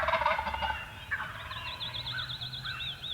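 Wild turkeys gobble in the woods during a turkey hunt: a rolling, warbling gobble and several shorter calls repeat over the second half, moderately distant, over faint background rustle.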